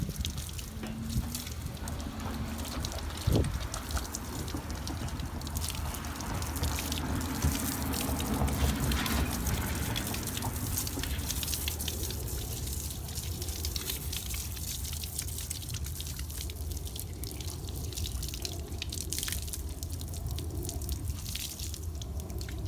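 A hose stream rinses heavy grime off a car tire and rim, making a continuous, close splashing spray with scattered drips and patters, steady throughout with no voices.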